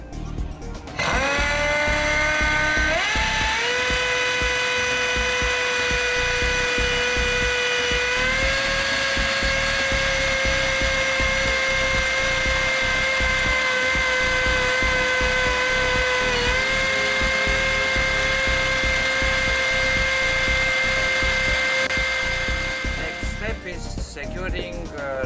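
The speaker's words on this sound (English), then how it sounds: "Third step, lower the accommodation by pneumatic motor." A pneumatic motor lowers a ship's accommodation ladder with a loud, sustained whine that rises in pitch as it starts up and then holds, stepping slightly at a few points, over constant rattling and hiss before dropping away at the end.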